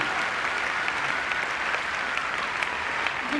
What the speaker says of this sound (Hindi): जोरदार तालियां दीजिए brand new double diamond lady Sunita के लिए।